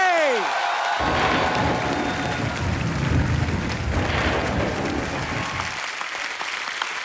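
A studio audience on a TV comedy show breaks into loud, sustained applause and cheering to welcome actress Huma Qureshi, swelling after a brief opening sound and then fading slightly.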